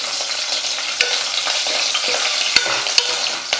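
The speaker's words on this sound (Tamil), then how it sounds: "எல்லாம் நல்லா வறுந்துடுச்சு." Red chillies, garlic cloves and tamarind frying in hot oil in a pan, a steady close sizzle broken by occasional stirring scrapes and clicks, no talking.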